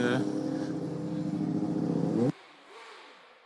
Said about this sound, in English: I think it's revving a bit in neutral at some points